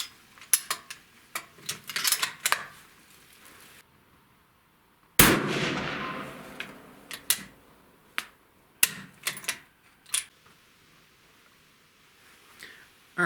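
A deer rifle fires a single sharp, loud shot while being sighted in at a 25-yard range, with a long decaying report, framed by scattered small clicks and handling noises before and after.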